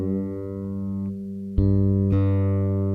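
A bass guitar string tuned to pitch rings with a steady, pure low tone that holds throughout. Two fresh plucks or attacks come near the middle, and no voice is heard.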